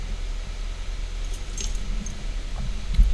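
Keys jangle in small bright metallic bursts over a steady low background hum in the horror game Martha is Dead, fairly close, with a soft thump near the end.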